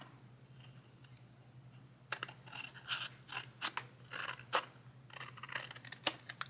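Scissors snip through card stock for a paper craft box, a run of crisp, close cuts and rustles that starts partway in and continues in quick irregular bursts.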